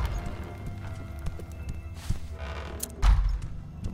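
Horse hooves clip-clop in The Chant video game, a steady walking rhythm of muffled thuds with a heavier knock near the end, set against a low game ambience.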